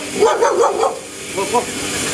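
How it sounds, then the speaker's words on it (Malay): An angry dog barks in a few harsh bursts near Bukit Merah, Malaysia, at the site of a former factory. The barking is fairly loud and close, with a quieter pair of barks after a short pause and people talking nearby. "Jangan marah lah anjing."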